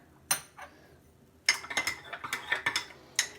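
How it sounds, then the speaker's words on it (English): A spoon clinks and taps against a cup while stirring hot turmeric golden milk tea, with a few sharp isolated clinks at first, then a quick run of clinks, close and clear with no talking. "I like to stir it when it's hot before I add the cold milk."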